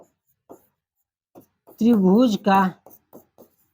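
Chalk tapping and scraping across a classroom board while writing a geometry formula, in short scattered strokes before and after a brief stretch of nearby talk.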